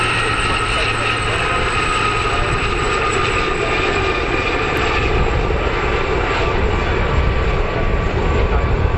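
Aircraft in squadron formation roar past at the RAF Cosford airshow, a loud, sustained engine rumble and whine that holds steady throughout with no talk.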